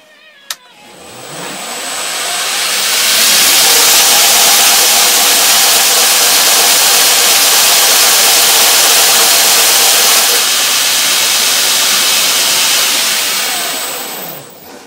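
A surface grinder fitted with a 36 grit abrasive grinds a flat steel knife blank, a loud, dense whooshing roar that spins up, holds steady for about ten seconds, then winds down, with no talking.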